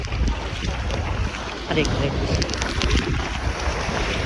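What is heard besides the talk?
strong ocean waves at a beach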